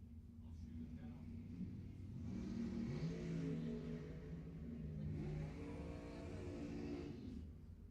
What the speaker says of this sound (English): Harry Olson in the Mustang will try to fend off Jason Wilson in the dragster.